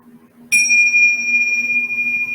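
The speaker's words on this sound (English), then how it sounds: "And as you hear my bells" A single bell or chime is struck once at the end of a children's yoga class and rings on with a clear, sustained metallic tone, steady and close, in an otherwise quiet space.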